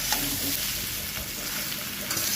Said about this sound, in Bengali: কুচানো আমগুলো দিয়ে দিয়েছি দিয়ে ভালো করে ওটা মিক্স করে নিচ্ছি দেখো